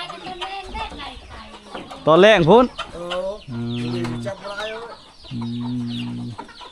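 Village chickens cluck and a rooster gives a loud, rising crow close by at an isolated hill village without electricity, with people talking in Thai around them.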